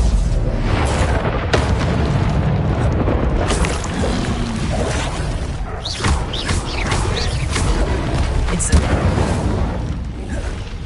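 Incendio fire spell cast repeatedly in Hogwarts Legacy on PS5, heard as a dense, continuous run of booming fiery bursts and crackling pops laid over a steady game soundscape, loud and close throughout.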